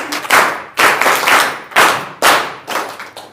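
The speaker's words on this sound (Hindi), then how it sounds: "तो ये साक्षरता ताली था" A group of trainees at a literacy campaign programme in Chandwa claps in unison, sharp synchronized bursts repeating in a steady rhythm of about five or six loud claps, close and clear with no talking.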